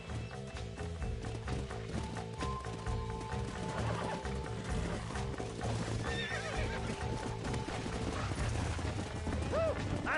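Horses in the video game Red Dead Redemption whinny and clip-clop over a busy game soundscape of mechanical clatter, the neighs rising near the end amid steady hoofbeats.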